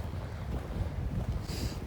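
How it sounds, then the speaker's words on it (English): Strong wind buffets the microphone on an exposed bluff above the Manistee River, a steady, loud low roar with gusting rumble and no voices. "Pretty windy, I apologize for the wind noise."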